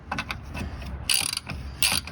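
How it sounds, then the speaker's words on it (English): A hand ratchet turning a 10 mm socket while snugging a plastic nut onto a metal-threaded bolt on a car control arm, heard as a few close, quick clicking bursts with short pauses between strokes. "Get my 10 millimeter socket."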